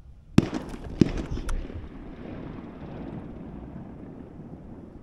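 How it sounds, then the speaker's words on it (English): Two sharp distant gunshot cracks from duck or goose hunters about half a second apart, followed by a third fainter pop, then steady wind rumble outdoors. "Gunshots started going off crazy."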